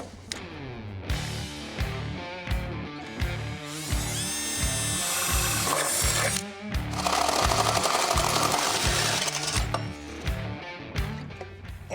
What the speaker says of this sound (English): Now there is some sheet metal in the way, so I gotta drill a hole.